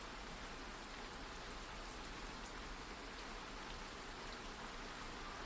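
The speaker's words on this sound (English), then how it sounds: "listened to the rain tapping gently on the roof" Rain falls on a roof as a steady, soft, even hiss with faint scattered patter throughout, continuous and unbroken, with no voices.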